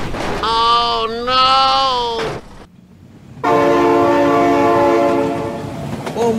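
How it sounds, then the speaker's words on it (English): Train blasting its horn in the video game BeamNG.drive, two long loud horn blasts separated by a short gap, rumbling close and powerful with rail noise underneath. "my god, train!"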